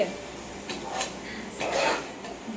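A spoon stirs and scrapes food in a cooking pot, producing several clinking, scraping strokes at a moderate, close level, with a person talking.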